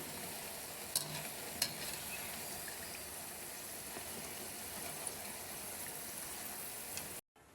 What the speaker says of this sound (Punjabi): ਇਸ ਤਰ੍ਹਾਂ ਆਪਣੇ ਪਕੌੜੇ ਜੋ ਬਣ ਰਹੇ ਨੇ ਉਹ ਆਪਾਂ ਹਲਾ ਦੇਵਾਂਗੇ